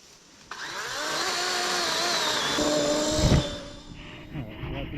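A DeWalt battery-powered chainsaw whines steadily at high speed while cutting fallen trees off a trail outdoors, a loud close buzz lasting a few seconds before easing off, with voices nearby.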